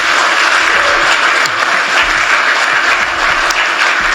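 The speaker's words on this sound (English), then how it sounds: "Let's give a big applause for our young people." An audience at a social business youth summit breaks into sustained, dense applause that stays loud and steady throughout.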